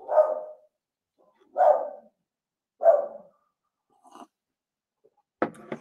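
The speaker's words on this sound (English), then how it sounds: "This dog's not gonna be quiet." A dog barks at a visitor at the door: three loud, evenly spaced single barks, then a softer one and a final rougher bark, close by with silence between.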